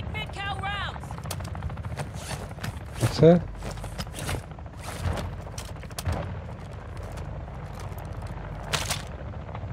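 Bursts of Call of Duty: Modern Warfare II Warzone 2.0 DMZ gunfire crack in quick rapid volleys alongside other game effects, while a voice briefly speaks over them in Ukrainian.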